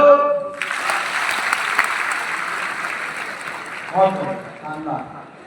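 A seminar audience in a hall breaks into a burst of clapping on cue, many hands together for about three seconds, after a man calls out and before he speaks again.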